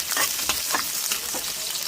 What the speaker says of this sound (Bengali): ভেজে নিচ্ছি, মূলো শাকটা রান্না করে দেবো।